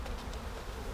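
Honeybees poured into a Warre hive give off a steady, dense, close buzzing hum that stays at an even level throughout, with no talk.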